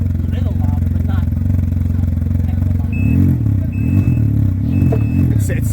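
A 900 motorcycle idles through a Stealth muffler with the baffle installed, a deep, steady, throbbing rumble at close range with a slight rise partway through, while people talk over it.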